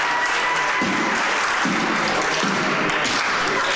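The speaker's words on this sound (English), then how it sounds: "Crowd here in Enfield, Connecticut, letting him hear it." A large wrestling crowd in Enfield, Connecticut jeers continuously, a broad wash of voices with rhythmic low thumps rising and falling beneath the noise.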